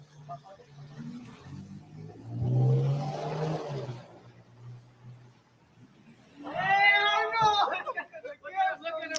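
A recklessly driven car roars past on a city street, its engine swelling and fading over a couple of seconds, followed by people talking nearby.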